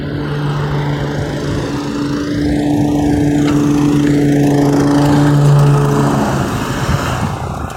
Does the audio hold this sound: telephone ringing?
no